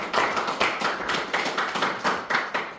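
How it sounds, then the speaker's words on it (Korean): A church congregation clapping together, a moderate, fairly even run of hand claps with regular rhythmic peaks, slightly distant and without voices. "하나님께 박수로 영광 돌리겠습니다."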